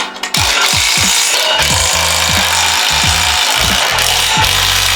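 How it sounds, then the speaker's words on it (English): Squat rack assembly hardware being tightened with a ratcheting tool, a loud steady run of repeated clicking strokes, close and continuous with no talking. "now we're just gonna tighten everything in."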